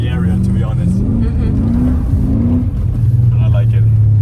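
BMW M5 E39 driving along a small snowy winter road with its wheels spinning, a loud steady engine drone with a rising rev in the middle, heard from inside the car with talking over it.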